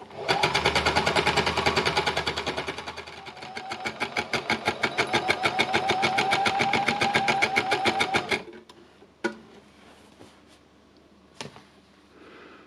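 Sewing machine stitching fabric pieces together in a fast, even, rhythmic run for about eight seconds, close and clear, then stopping, with a few light clicks afterward.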